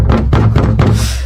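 An auto driver pounds hard on a locked bathroom door, several loud heavy thumps in quick uneven succession, close and booming.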